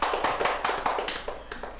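A small group gives a quick round of applause, close and brisk rapid hand claps lasting under two seconds, with no voices over it.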